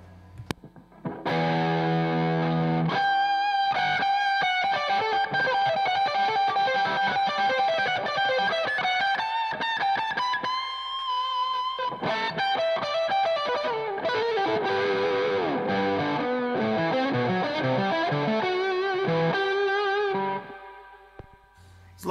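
An electric guitar played through a heavily distorted, effects-laden tone runs for about twenty seconds of dense sustained notes and chords, steady and loud, with no talk over it.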